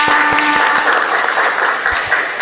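Children in an Arabic-language classroom clap together at the end of a lesson, a brisk burst of many small hands with a few distinct sharp claps at the start, close and lively.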